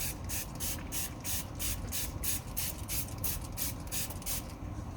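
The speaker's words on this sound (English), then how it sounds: "We'll just spray some water." Repeated quick bursts of a spray bottle misting water onto a watercolor painting, about a dozen hissing pumps in a steady rhythm over a low background rumble.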